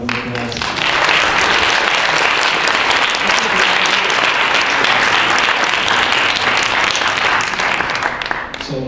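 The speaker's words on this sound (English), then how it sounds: "if we could just give him another round of applause" Loud, sustained applause from an audience at a university business club awards meeting, a dense wash of clapping that starts abruptly and holds steady for several seconds before tapering at the end.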